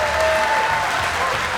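A crowd at a 2002 bass fishing championship weigh-in on Lake Champlain applauds angler Rick Clunn, a steady wash of clapping with a voice talking over it.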